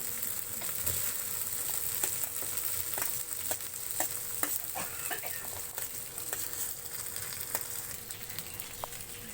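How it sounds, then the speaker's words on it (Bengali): Spice paste of ground ginger, cumin and dried chilli sizzles steadily in a pan as fried potatoes are added, with a continuous close crackle and occasional stirring clicks and scrapes, no talking. "মশলাটা ভালো করে কষা হচ্ছে, এবার দিয়ে দেওয়া হচ্ছে ভেজে রাখা আলু।"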